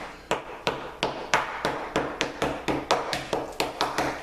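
A wooden hammer cracks a slab of homemade glass candy into small pieces, giving a steady series of about a dozen sharp, close knocks with brief crunchy decays, and no voices.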